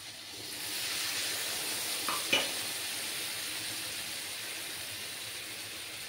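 A ground paste of cashews, raisins and melon seeds frying in a pan on a vegetarian Bengali soybean curry, giving a steady even sizzle with one short scrape of stirring, close and moderately loud with no talk.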